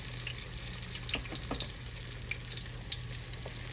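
Green tomato slices fry in hot oil in a pan, about five at a time, giving a steady close sizzle with scattered crackles and pops.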